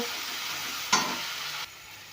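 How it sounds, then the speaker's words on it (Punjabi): Ginger-garlic paste and green chili are sautéed with onions in a pan for soybean keema bhurji, a steady close sizzle with a brief louder flare of frying partway through before it quiets. "ਹਰੀ ਮਿਰਚ ਟੇਸਟ ਅਕੋਰਡਿੰਗ ਅਦਰਕ ਲਸਣ ਦਾ ਪੇਸਟ ਇਹਨੂੰ ਭੁੰਨਾਂਗੇ 1-2 ਮਿੰਟ"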